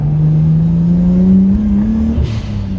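A Nissan Skyline R33 racing a Lamborghini on a freeway, a loud close engine drone that climbs steadily in pitch under acceleration, then eases off at the end.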